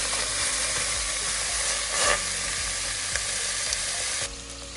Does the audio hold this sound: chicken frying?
yes